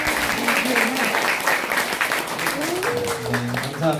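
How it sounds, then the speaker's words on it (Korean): An audience at a book launch talk show in Korea applauds steadily for several seconds, fairly close, with voices rising over the clapping. "우리 장세한 후보님을 위해서 박수 한번 부탁드립니다"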